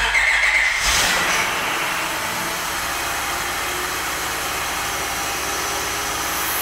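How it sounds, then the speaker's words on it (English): A Honda Pilot with about 200,000 miles cranks and catches in a brief burst, then settles into a steady, slightly high idle hum that continues close by. "And it seems to be idling kind of high."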